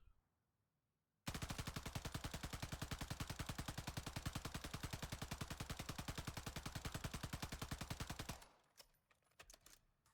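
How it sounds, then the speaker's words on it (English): A Taq Eradicator rifle in a video game empties a full magazine in one sustained, rapid burst of loud shots lasting several seconds. The burst cuts off abruptly, leaving faint clicks and no voices. "we're going to dump an entire mag into this wall with this build"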